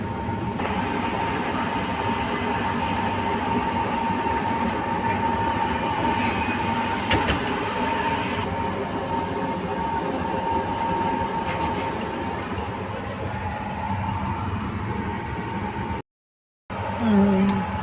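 A passenger train rumbles steadily at an Indian railway station, with general-class coaches for Sabarmati, Jodhpur and Barmer. The loud, continuous noise carries a faint metallic ring and cuts out briefly near the end.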